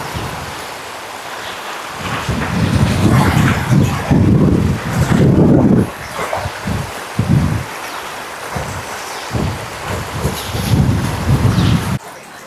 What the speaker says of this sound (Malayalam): അതിശക്തമായിട്ടുള്ള ഒഴുക്കും മഴയുമാണ് നമ്മുടെ പാലക്കാടൻ വില്ലേജുകളിൽ.